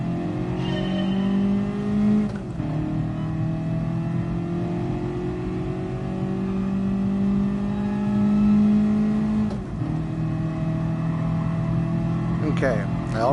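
A car engine in GT Sport, lapping the Nordschleife in reverse, drones steadily with its pitch rising through each gear and then dropping sharply at two clear shifts, loud and continuous under someone talking.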